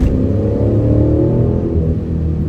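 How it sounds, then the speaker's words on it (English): A deep Hemi V8 engine in a 2023 Dodge Challenger R/T Scat Pack Widebody revs and rumbles steadily up close, its throaty roar holding strong before easing slightly toward the end. "Hemi noises."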